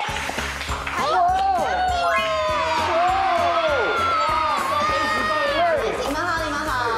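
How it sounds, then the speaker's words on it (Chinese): A studio audience cheers and whoops to welcome two transfer students, with many excited, rising voices over a loud, steady roar of crowd noise. "那我们就掌声欢迎两位转学生"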